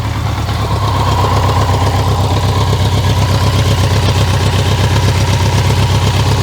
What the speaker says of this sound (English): Idle's running great, so a little bit of idle adjuster right here